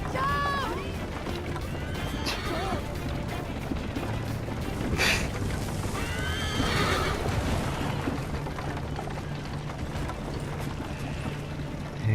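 Horse in Assassin's Creed Liberation whinnying repeatedly with hoofbeats amid loud game action, music and crackling noise, with voices shouting over it.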